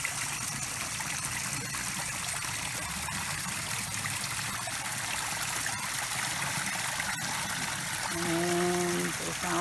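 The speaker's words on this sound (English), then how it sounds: "But that's the waterfall." A garden koi pond waterfall trickles steadily into a stream, a constant close splashing wash with a brief voice near the end.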